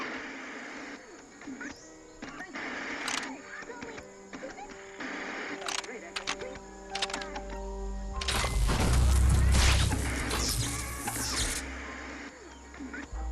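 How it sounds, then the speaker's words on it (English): In the Biomutant video game, bolts on a mechanism are loosened during a quest, heard as mechanical clicks, whirs and clanks over background game music and ambience. A louder rumbling stretch builds midway through. "you need to loosen the bolts without rattling the mechanism"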